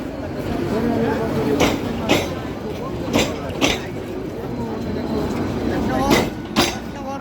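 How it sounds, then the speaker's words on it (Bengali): A Dhaka local train rumbles at Mymensingh railway station, a steady heavy drone broken by periodic wheel clacks, with voices in the background. "ঢাকার লোকাল ট্রেন।"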